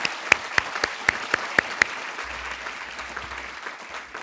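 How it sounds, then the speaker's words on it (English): Audience applauding a graduating class at a university graduation and hooding ceremony: loud crowd clapping, with a few sharp nearby claps standing out early before the applause thins and continues. "let's give them a round of applause"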